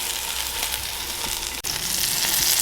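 Steak frying in butter in a pan gives a steady, close, loud sizzle that holds without pause, with one brief dip partway through.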